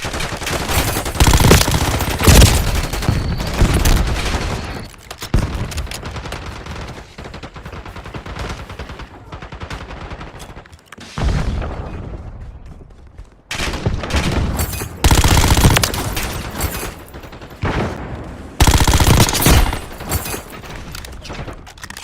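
Gunfire in Call of Duty Warzone Mobile: loud bursts of automatic rifle fire and scattered shots come in several volleys, separated by short lulls, with no voices.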